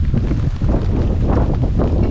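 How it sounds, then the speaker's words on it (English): Strong wind buffets the microphone in a steady low rumble with gusty swells during a rainy storm at Trona Pinnacles, close and continuous, with no voices. "It's been pretty windy today"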